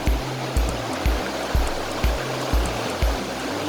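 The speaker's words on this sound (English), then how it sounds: "this is one of the creeks that run through. It's a drainage creek for when the mountain melts" Drainage creek of snowmelt running through Whistler Village, a steady close rush of flowing water with a soft rhythmic low thumping underneath, no voices.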